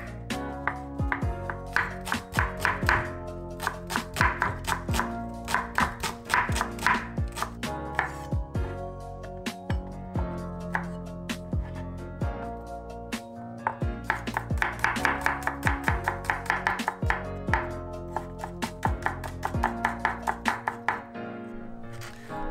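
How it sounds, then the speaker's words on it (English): Knife chops mushrooms by hand on a cutting board in quick, close, rhythmic bursts of sharp taps, pausing briefly between runs, for a Christmas beef Wellington, with no talk. "So here I'm just chopping up the mushrooms."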